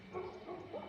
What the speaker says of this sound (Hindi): कुत्ते भी भौंकने लग गए।